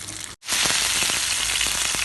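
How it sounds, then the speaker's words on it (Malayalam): Ayila (mackerel) fish frying in a pan, a loud, close, continuous sizzle with crackling pops, briefly cut off near the start before resuming. "മീനിപ്പം നന്നായിട്ട് ഫ്രൈ ആയിട്ടുണ്ട്"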